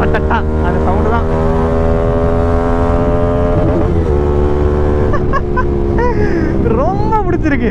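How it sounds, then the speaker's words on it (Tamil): A fully modified Bajaj NS200 motorcycle with an aftermarket exhaust drones steadily and loudly nearby, its tone rising and falling as the throttle changes, with a brief revving sweep near the end. "ரொம்ப ரொம்ப பிடிச்சிருக்கு இந்த ரட்டட்டா சவுண்டு"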